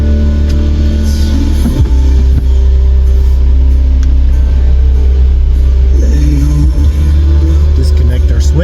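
An off-road vehicle shifted into four-wheel drive rumbles up a rocky trail at Poughkeepsie Gulch, its engine droning low and close with shifting pitch while someone talks over it.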